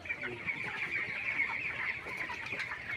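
A crowd of broiler chickens on a poultry farm makes a constant, dense chorus of clucking and chirping at moderate volume, with no single bird standing out.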